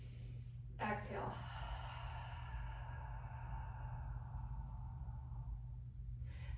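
During a breathing exercise on a mat, a person takes a short intake and then lets out a long, slow, airy exhale through an open mouth, close and soft, fading gradually over several seconds.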